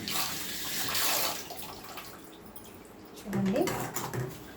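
Water is poured into a pan of red chilli masala for dosa, a soft splashing pour that swells, fades and comes back briefly, with a short voice near the end.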